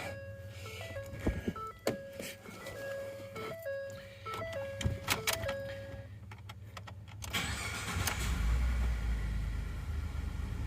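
A 2011-2014 Ford EcoBoost pickup truck engine cranks and catches near the end after a series of beeps and clicks, then settles into a low rumble.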